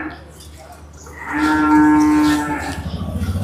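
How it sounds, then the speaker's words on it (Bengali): A Sahiwal bull calf about 17 to 18 months old gives one loud, close, drawn-out moo lasting over a second, followed by low rustling and shuffling. "এটা করজ বাহামা ষাঁড় বাচ্চা দর্শকের দেখেন ভাই"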